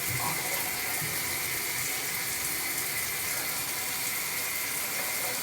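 Steady water streaming from an ALDI LED temperature shower head with scalding hot flow, a continuous close hiss of running water lasting throughout with no pauses.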